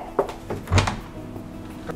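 Door leading to emergency service stairs in a luxury apartment residence being opened, giving a few wooden thunks and a latch clack close by, with faint room noise between the knocks.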